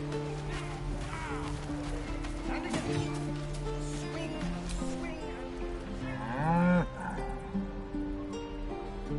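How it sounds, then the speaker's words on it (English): A cow moos in drawn-out low calls within Baldur's Gate 3 on PS5, fairly close, set against ambient game sound with a voice speaking in between. "Moo!"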